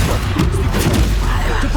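Loud booming spell blasts from Hogwarts Legacy on PS5, the Bombarda explosion spell going off amid dense game combat noise, with thumps and bursts layered over a constant low rumble.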